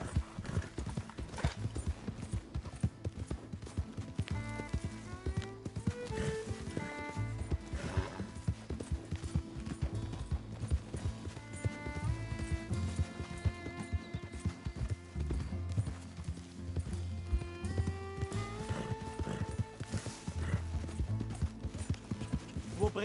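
Horse hooves clip-clop at a steady gallop in the video game Red Dead Redemption 2, with occasional neighs and whinnies over a continuous musical score, sustained throughout.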